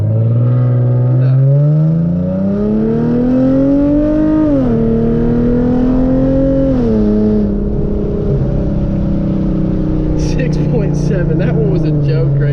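A Hyundai Genesis Coupe 3.8 accelerates hard from a standing start in second gear, its loud engine note climbing steadily with a brief dip at a gear change before rising again, heard close from inside the car with people talking.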